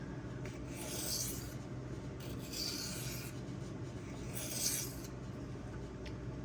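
A ZDP-189 steel knife blade rasps across a Suehiro Debado whetstone in steady strokes of repeated scraping, each surge swelling and fading, close and fairly quiet, with no voices.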